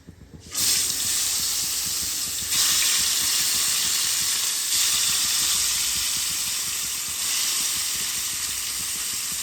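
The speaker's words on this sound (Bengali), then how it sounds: "আমি মাছটা ফ্রাই করে নিচ্ছি" Rohu fish pieces coated in turmeric and salt fry steadily in hot oil, a loud, continuous close-up sizzle that surges a few times and runs on without pause or voices.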